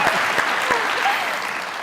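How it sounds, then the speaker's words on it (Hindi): Studio audience applause on a comedy talk show, a dense, steady burst of clapping at fairly loud level that fades slightly toward the end, with some vocal cheering mixed in. "तालियां।"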